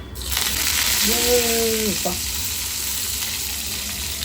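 Hot oil sizzles loudly as curry leaves drop in with a brief crackling burst, followed by a steady frying hiss.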